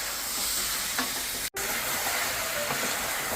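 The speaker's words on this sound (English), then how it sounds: "I've been frying this mutton, the leg pieces, Nihari pieces, for almost 15 minutes on high flame, continuously stirring it" Mutton nihari leg pieces fry on a high flame, a dense, steady sizzle with scraping of stirring, close and continuous apart from a brief cut in the middle.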